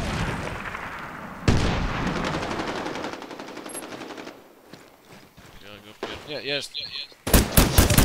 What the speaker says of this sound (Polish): Celuje, strzela.